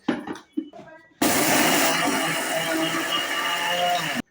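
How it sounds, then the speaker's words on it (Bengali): A cup of sugar is ground to powder in a blender. After a few seconds of talk, the motor kicks in with a loud, steady whirring roar for about three seconds, then cuts off abruptly. "এক কাপ চিনি নিলাম নিয়ে এটা ভালো করে গুঁড়ো করে নেবো"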